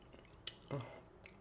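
A single crisp crunch of someone biting and chewing breaded eggplant, close and fairly quiet, over a soft background.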